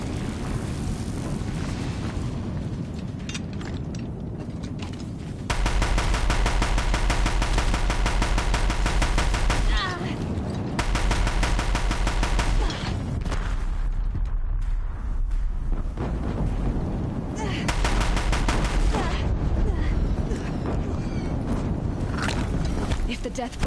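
Deathbringer machine guns fire in Horizon Zero Dawn, a loud continuous roar of rapid gunfire with rumbling blasts that persists throughout and swells in heavier bursts, mixed with battle noise.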